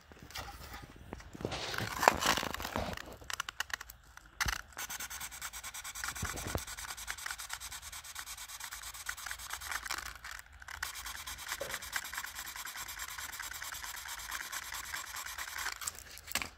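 Sandpaper rubbed steadily over a carbon fiber Native American flute, a continuous close scraping hiss with brief pauses and a few handling knocks, no talking.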